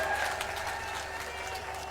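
A crowd at a political election rally in Pipli claps in welcome, a fairly soft, continuous patter of applause heard from a distance, with a faint amplified voice or tone humming beneath it.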